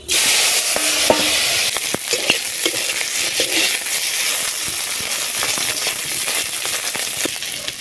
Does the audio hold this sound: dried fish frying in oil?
yes